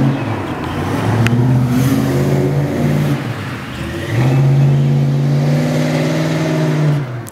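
A Ford Mustang engine revs loudly nearby in two sustained pulls, its pitch rising and holding before dropping between them, with no talking over it.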